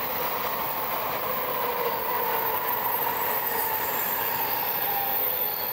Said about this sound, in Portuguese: Aí, ó, trem-bala. Trem-bala esse aí.